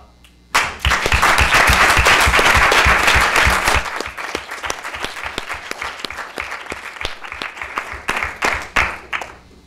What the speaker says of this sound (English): Big round of applause for VP Shaw.